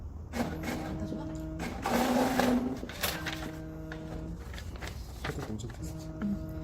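An HP 8720 inkjet printer prints a nozzle test page, its print head carriage making repeated whirring, buzzing passes with soft mechanical clicks, fairly close and moderately loud, with no talking over it.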